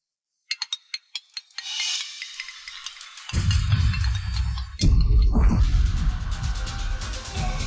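A phone rings with a quick series of bright electronic tones, then a loud, dense musical ringtone plays on continuously, close and filling the space.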